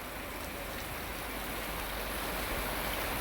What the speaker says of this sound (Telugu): ఇప్పుడు మేము ఉన్నటువంటి బోటు దగ్గర పెద్ద వర్షంలా పడుతుందన్నమాట